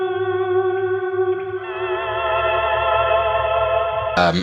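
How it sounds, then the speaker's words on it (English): An electric guitar runs through a Line 6 DL4 delay pedal's auto volume echo along with other pedals, producing a sustained, swelling post-rock chord with layered echoes and a new note attacking sharply at the end. "the Line 6 DL4. One thing on it, which is this auto volume echo, which I have saved to a preset here, which will give me a kind of like post-rock type of swell sound"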